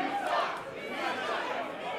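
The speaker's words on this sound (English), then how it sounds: "there's the crowd" Crowd at a live wrestling show, a far-off murmur of many voices and chatter rising and falling in soft swells, fairly faint and diffuse.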